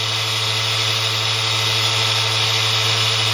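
ZFM series-wound six-pole electric motor spinning unloaded at 6,600 RPM on 36 volts, a steady close whine with a constant low hum and no variation, no voices.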